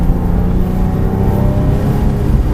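A Porsche 997 GT3 accelerates flat out around a race circuit, its engine a loud, steady roar heard from close by, holding a sustained high-rev drone with no voices over it.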